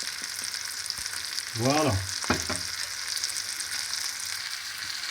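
A steak sizzles steadily in a hot pan for green peppercorn cream sauce steak with mushrooms, with a brief burst of louder crackling near the middle and one short spoken word over the frying.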